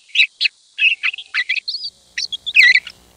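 A juvenile songbird sings a recorded song of short, high chirps and warbling notes in rapid, irregular bursts with brief pauses, clear and close against silence.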